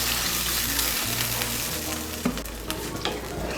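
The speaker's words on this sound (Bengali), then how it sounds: "এর মধ্যে দিয়ে দিচ্ছি 1 কাপ জল।" Vegetables for Bengali dudh shukto fry in a pan as a cup of water goes in, giving a steady loud sizzle and hiss with stirring scrapes throughout.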